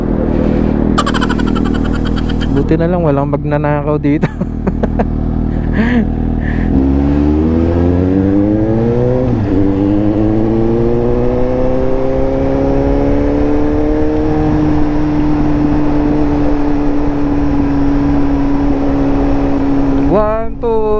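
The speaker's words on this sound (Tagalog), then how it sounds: "Hindi ko napatay yung motor ko." A Suzuki V-Strom motorcycle engine idles close by and revs, its pitch climbing and then holding steady, while a person speaks over it.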